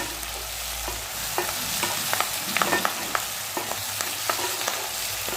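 Garden-grown curry leaves crackle and sizzle in hot ghee in a pan, a steady close frying hiss with sharp pops and spatters scattered throughout, and no voices.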